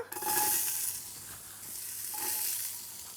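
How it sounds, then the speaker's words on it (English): Onions for a beef and olive stew hit a hot pot after the meat is browned, bursting into a bright sizzle that eases and then swells again, close and alone. "We're going to add the onions now."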